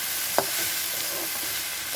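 Bottle gourd peels frying in a pan over medium heat, a steady soft sizzle with a single sharp tap of a utensil early on and faint stirring scrapes.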